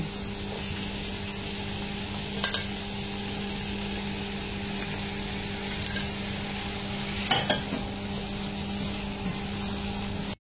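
Shrimp stir-frying in a pan give a steady close sizzle with occasional stirring clinks and scrapes, heard alone without talk.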